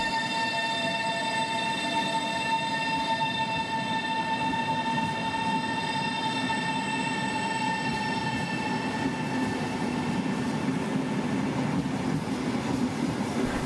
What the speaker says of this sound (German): Es kommen die Schweizer Triebwagen vom Typ ETR 610 zum Einsatz.